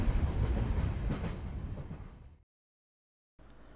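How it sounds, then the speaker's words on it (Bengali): A cartoon sound effect of a train arriving and stopping at a station: a loud, close rumble of wheels that fades over about two seconds, then cuts to silence before faint noise returns. "ট্রেন স্টেশনে এসে থামল।"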